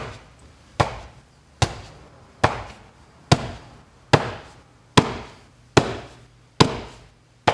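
Palm strikes land on a training target in a dojo, nine sharp, evenly spaced smacks at a steady rhythm, loud and close, each followed by a short decaying ring, with no talk.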